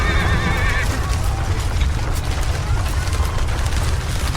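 Horses neigh and whinny while hooves clop over sinking, soft ground on a mountain trek, a loud dense mix of hoofbeats and rumbling under a shrill whinny early on, with voices talking.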